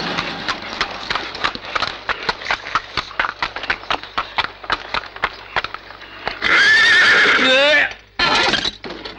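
A horse in a 1985 Hindi film neighs in a long, loud whinny after a run of quick, rhythmic hoof clip-clops that sound close, with brief speech around the hooves.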